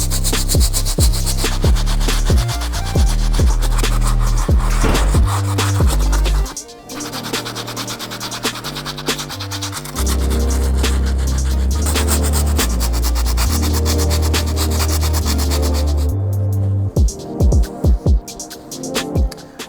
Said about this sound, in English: I'm gonna use a stiff bristle brush to clean the midsole and the outsole.